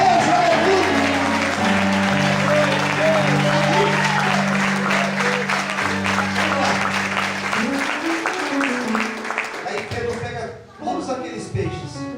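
Church congregation applauding loudly and steadily with sustained clapping, while music or voices carry on underneath before the applause fades out near the end.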